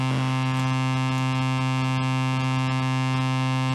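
A modular synth oscillator with its pitch swept by a low frequency oscillator's sine wave, giving a loud, steady buzzy drone with a wavering, pulsing tone and no talk.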